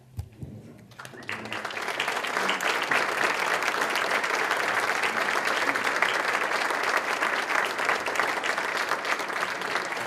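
Sustained audience applause at a Red Cross heroes breakfast, starting after a brief moment of quiet and swelling into steady, dense clapping from a large room that continues to the end.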